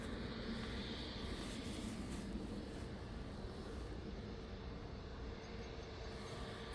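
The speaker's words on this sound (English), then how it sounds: "Must be the EasyJet that just departed a moment ago." Distant rumble of an EasyJet airliner departing at Manchester airport, a faint, steady broadband roar lasting several seconds with no talking over it.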